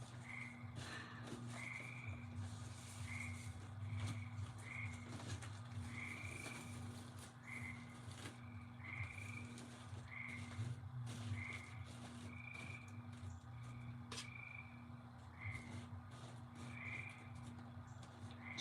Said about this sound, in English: I think it's frogs and crickets. They're all out there.